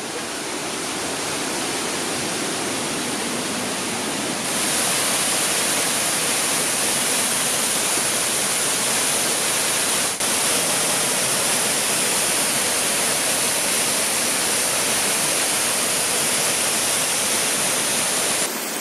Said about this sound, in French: on devrait voir le haut de la deuxième cascade